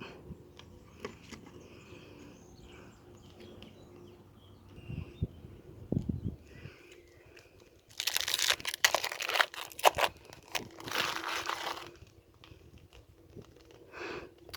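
A Magic: The Gathering Ikoria booster pack is handled and torn open, with quiet rustling at first, then bursts of loud close-up foil crinkling and tearing in the second half, no talking.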